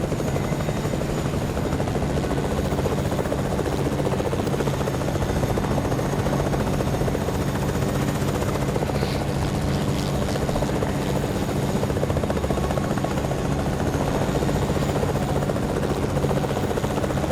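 A video game helicopter drones steadily and loudly throughout, a constant rotor buzz with no pauses.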